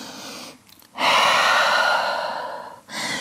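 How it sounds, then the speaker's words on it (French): A deep, loud breath taken close up while holding a downward dog yoga pose, with a short intake followed by a long, steady exhale of about two seconds, then another breath beginning at the end. "Grande respiration ici"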